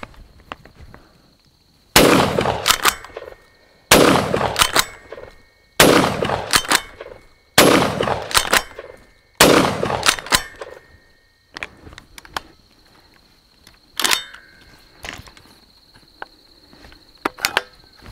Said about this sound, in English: So this is going to be my first shots here.